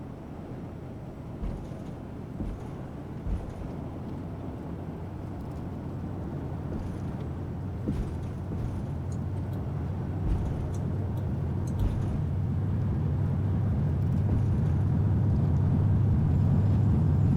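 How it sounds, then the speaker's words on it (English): Simulated aircraft engines run up for takeoff in the flight simulator FSPassengers, a steady broadband rumble that swells gradually louder across the run with no voices. "Run up the engines."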